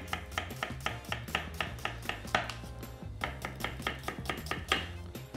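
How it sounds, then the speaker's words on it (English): A knife slices a white onion on a cutting board in a quick, steady series of sharp chops, close and clear with no talking. "gonna slice it up"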